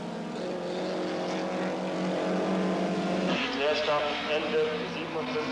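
A Ginetta classic racing car with a 948cc Healey four-cylinder engine making around 65 horsepower, at a classic car race. Its buzzing engine note climbs and shifts as it runs close by, under steady commentary.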